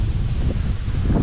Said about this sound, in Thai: ระหว่างทางลมก็แรงนะครับ